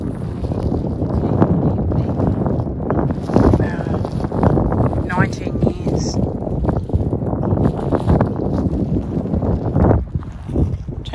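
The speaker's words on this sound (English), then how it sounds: "there's a bit of wind" Outdoors at West Terrace Cemetery in South Australia, wind buffets the microphone in a loud, steady low rumble that runs throughout, with a person talking over it.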